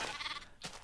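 A baby sheep in Minecraft gives one short, high-pitched bleat, close and clear, following a brief moment of other game sound.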